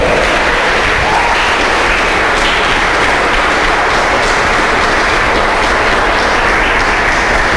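Loud, dense applause from a large church congregation, continuous and steady throughout with no talking.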